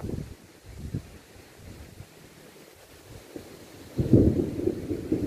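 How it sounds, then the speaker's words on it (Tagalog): Low thunder rumbles under rain and gusty wind on an overlooking hilltop at Digos Hills, a quiet stretch giving way to a louder, closer roll near the end. "Kumukulog na siya"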